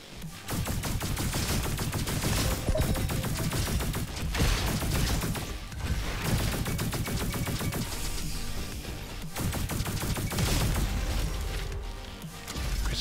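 An Arctic Rifle fires in the RoboQuest video game: loud, relentless rapid bursts of gunfire run almost unbroken for thirteen seconds in a dense, busy game mix.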